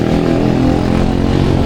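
Steady engine drone of cars and motorbikes passing on a busy Jakarta street at night, a dense continuous rumble with no break over the short stretch.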